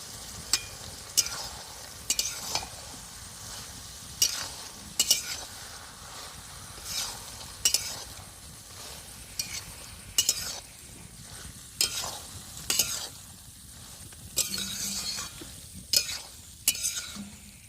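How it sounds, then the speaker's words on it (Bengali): Already fried potatoes and prawns are stirred in a pan with ridge gourd, giving a low sizzle under a rhythmic series of close scraping and clinking strokes from the spoon. "ভেজে রাখা আলু আর চিংড়ি মাছটা আমি একসঙ্গে দিয়ে দিচ্ছি"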